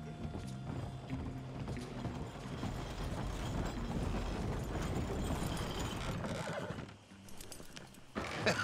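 Horses in the Red Dead Redemption 2 video game whinny and clop their hooves in a busy, continuous mix that dips briefly near the end before picking up again.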